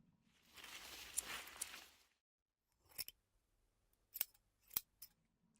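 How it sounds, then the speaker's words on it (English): Scissors trimming roses: a soft, sustained rustle and snip followed by three sharp, close cuts spaced about a second apart, with quiet gaps between. "You have to take care when trimming roses."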